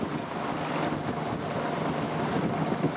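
A boat motors along the Amazon river, a steady engine drone and rushing water blended with heavy wind buffeting against the microphone, continuous and fairly loud throughout.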